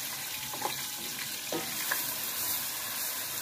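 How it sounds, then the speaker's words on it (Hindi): Onions fry in hot ghee with a steady, close hiss of sizzling, punctuated by a few faint stirring clinks and scrapes, with no voices. "प्याज अच्छे तरीके नाल फ्राई हो जाए"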